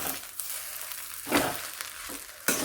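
Egg and carrot mixture frying in a pan, a soft continuous sizzle broken by a few louder bursts of stirring and scraping, close and steady with no talking.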